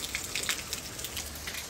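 Steady heavy rainfall in Guarujá, an even wash of patter with scattered nearby drips striking a hard surface, heard alone.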